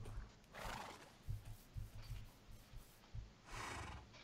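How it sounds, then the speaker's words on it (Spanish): A Minecraft horse whinnies twice, with a clip-clop of hooves and scattered thuds in between, fairly quiet and with no talk over it. "Oh, pobre caballo."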